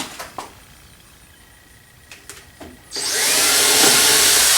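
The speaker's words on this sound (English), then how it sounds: "And then a quick 1/8 inch pilot hole." A power drill bores a quick 1/8 inch pilot hole in a Fender amplifier cabinet, starting after a few faint handling clicks with a loud, close, steady whir that runs for under two seconds.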